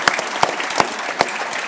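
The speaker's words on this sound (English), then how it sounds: "Everybody give Nick O'Malley a big round of applause." A few audience members clap at a political conference panel, the separate hand claps spaced fairly evenly and close, with no talk over them.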